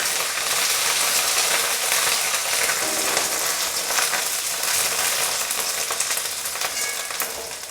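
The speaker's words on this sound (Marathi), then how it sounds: "आता आपण जिरे मोहरी टाकून घेऊयात. कढीपत्ता टाकूयात." Cumin, mustard seeds and curry leaves sizzling in hot oil for a puffed rice chivda, a loud, continuous crackling hiss close by with scattered pops throughout.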